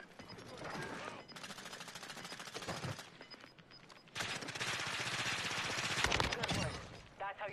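Bursts of automatic gunfire from an online multiplayer shooter game, rapid crackling volleys in two long stretches with brief gaps, loud and continuous under occasional player chatter.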